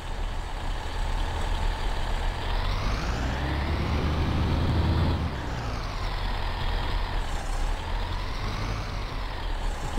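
A bus in the OMSI 2 driving simulator climbs a ramp, its diesel engine droning steadily with rising and falling revs and a deep rumble throughout, with no other sounds.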